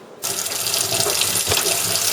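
Water gushes steadily from a kitchen tap into a sink, starting abruptly and continuing loud and close, the splashing constant with no talk over it.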